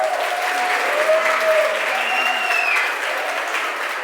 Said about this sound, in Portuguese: salva de palmas para eles.